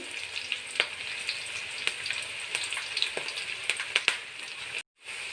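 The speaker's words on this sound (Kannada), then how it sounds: "ಈರುಳ್ಳಿ ಚೆನ್ನಾಗಿ ಫ್ರೈ ಆಗಬೇಕು, ಕೆಂಪಗಾಗಬೇಕು ಈರುಳ್ಳಿ." Onions and curry leaves fry in a pan with a steady crackling sizzle and scattered sharp pops, close and even, before a brief cut to silence near the end.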